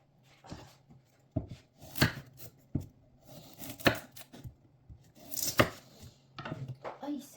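A knife chops onion on a cutting board in irregular bursts of sharp, close knocks, some quick runs and some single strikes, with quiet gaps and light kitchen clatter between.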